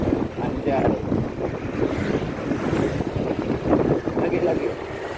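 A new Honda Vario 160 scooter accelerates on the road, its engine drone mixed with heavy wind buffeting on the microphone, and a rider talks over the noise.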